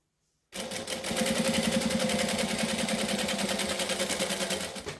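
A sewing machine stitches close along the edge of a fabric wallet, starting abruptly after a moment of silence and running in a fast, even rhythmic whir for several seconds, loud and close, with no voices.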